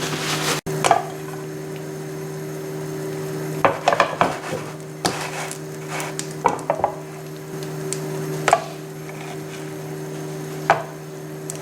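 Mini batbouts cook in a hot pan over medium heat, giving a steady low sizzle broken by occasional sharp clinks and scrapes of a utensil against the pan.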